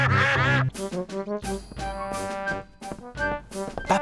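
Cartoon ducks in Peppa Pig quack in a quick, loud series of nasal calls, several overlapping at close range, with short gaps between bursts.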